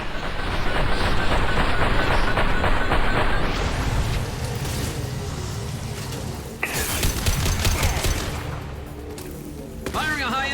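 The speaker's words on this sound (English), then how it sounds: "Firing a high-impact shot!" Chaotic gunfire and impacts in the Mass Effect 2 combat finale, dense bursts and crashing blasts with a sharp loud shot midway, mixed with voices talking throughout.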